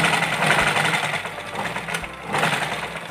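Sewing machine stitching a boat neck blouse, running in a steady fast mechanical whir with brief pauses and restarts, close and loud with no talking.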